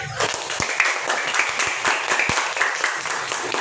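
A room of teachers at an academic supervision session gives a round of applause after a group discussion, with dense, close clapping and a few sharp individual claps standing out, and voices mixed in.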